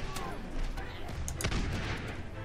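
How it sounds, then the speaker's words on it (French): Cannon blasts and gunfire in Totally Accurate Battle Simulator during a pirate battle, a dense clatter of repeated booms and shots with a sharp loud report near the middle, under ongoing talk. "J'ai pété un canon"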